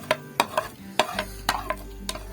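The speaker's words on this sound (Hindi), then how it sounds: "ऑयल में प्याज डालेंगे हम।" Sliced onions frying in cooking oil for village-style saag gosht, with a run of sharp spoon clinks and scrapes against the pot over a faint steady hiss, close and alone.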